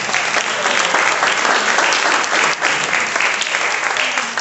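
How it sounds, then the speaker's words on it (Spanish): A congregation at a deliverance seminar in Lakewood, New Jersey breaks into loud, sustained applause, dense clapping filling the room steadily throughout with no voices on top. "Un aplauso a Jesucristo ahí."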